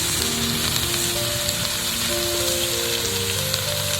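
Neem flowers and eggplant fry in hot oil in a pan, a loud, close, continuous sizzle and crackle throughout with no talking.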